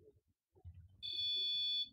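A REM pod ghost-hunting device's alarm sounds as a steady, piercing electronic tone lasting under a second, after a few soft low knocks and rustles of handling.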